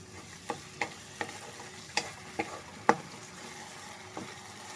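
Homemade pasta being stirred and fried in a pan: a soft steady sizzle underneath, with about eight sharp clicks of the utensil against the pan spaced unevenly through the stretch.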